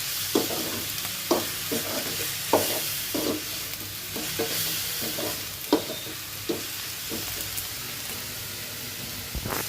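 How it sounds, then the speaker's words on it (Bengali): Steady hot-oil sizzling of cumin, chili and turmeric frying in a pan, broken by a series of sharp scraping stirs at irregular intervals, close and fairly quiet. "এদিকে আমার জিরা মরিচ হলুদ সব ভাজা হয়ে গেছে"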